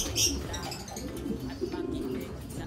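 Paired white flight pigeons, a hen and a cock, give soft, murmuring coos over a short, faint stretch in a loft.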